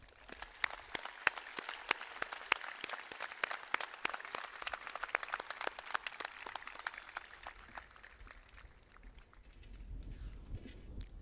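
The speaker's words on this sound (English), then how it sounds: "Let's give them a round of applause." Audience applause at a high school graduation ceremony, a long burst of clapping heard from a distance in a large space that thins out and fades toward the end.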